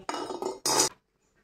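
A lid set onto a cooking pot of boiling mushroom pickle, giving a few metallic clanks and rattles over about a second, close and fairly loud, then quiet.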